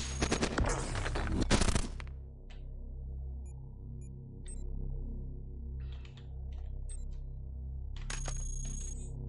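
Weapons fire in the roguelike video game Cogmind: a rapid burst of synthetic gunshots crackles loudly at the start, then gives way to a low droning hum with scattered faint electronic blips and a short chirp near the end.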